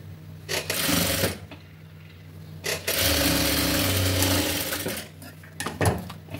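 Sewing machine stitching a blouse, a fabric edge folded under as it is sewn, runs in sustained whirring bursts of one to two seconds, the longest lasting about two seconds, with brief pauses between them.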